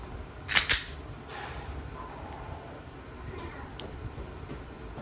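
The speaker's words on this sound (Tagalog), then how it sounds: "Glock 17 Gen 5 Airsoft Pistol, sir. Testing." WE Glock 17 Gen 5 airsoft pistol fired: two sharp close snaps in quick succession early on, then a few fainter clicks over a low background hum.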